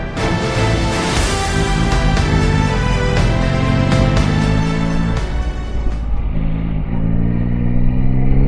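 A Yamaha Tracer 9 motorcycle being ridden on the road in cold December weather, its engine a loud, steady drone that rises and falls with throttle and gear changes, ending on a lower idle-like hum.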